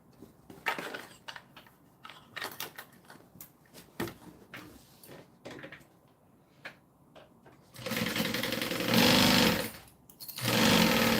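A sewing machine stitches a bag seam, starting with short stop-start bursts and ending in longer runs of steady, close mechanical whirring with no talk.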